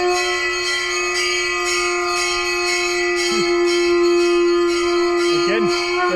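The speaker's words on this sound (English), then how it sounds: "Our hotel is next to a temple, so you can maybe explain why they're ringing the bell" A temple bell in India rings steadily with a sustained, shimmering tone and repeated strikes, loud and close, with brief faint voices near the end.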